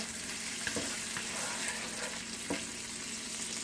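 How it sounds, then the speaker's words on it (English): Bacon frying in a pan with added bacon grease, an even hiss and sizzle with a few soft utensil taps, heard close and without voices. "Okay, so now I'm going to cook my bacon."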